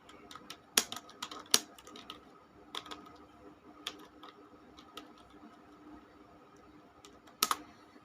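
Sparse typing on a computer keyboard, with irregular single key clicks spaced out over several seconds, a few sharper louder taps among quieter ones, close and alone without speech.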